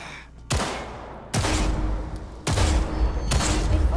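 Four heavy gunshots spaced about a second apart, each a sharp loud blast with a decaying tail, from pistol target practice in the Cyberpunk 2077 video game.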